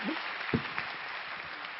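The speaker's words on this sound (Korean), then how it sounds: "이럴 때 박수 나오던데요" Scattered audience clapping at a public science lecture, fairly faint and thin, with a couple of sharper claps and a brief voice near the start.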